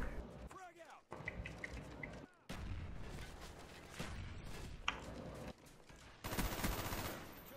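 Gunfire crackles and booms through a multiplayer shooter match, Black Ops 1, with repeated bursts and volleys cutting in and out over a steady game background.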